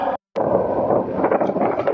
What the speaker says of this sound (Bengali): এখানে হাওয়াটা এত বেশি মারছে যে আর এত ঠান্ডা হাওয়া